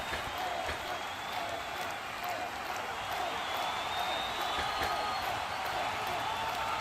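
A wrestling show crowd cheers and applauds at a steady moderate level, a dense continuous wash of clapping and voices heard from a distance without any single standout shout.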